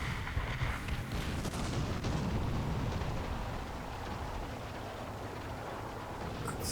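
Artillery barrage in the War Thunder tank game, a dense rumbling wash of distant explosions that swells over the first few seconds and then slowly fades, loud and continuous with no voices.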